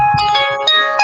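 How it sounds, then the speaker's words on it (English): A phone ringtone goes off indoors, a bright electronic tonal melody pulsing in three quick bursts, close and loud with no voices over it. "my phone does keep going off"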